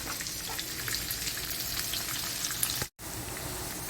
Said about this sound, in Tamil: நல்லா வந்து நெய்யிலையும் வெங்காயம், இஞ்சி பூண்டு எல்லாம் போட்டோம்